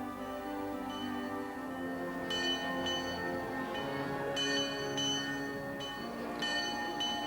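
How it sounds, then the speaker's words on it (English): An old village bell in Otford, Kent, rings repeatedly with a sustained, resonant metallic tone, strikes recurring every second or so and overlapping into a humming wash. "And children to school to the old bell's sound."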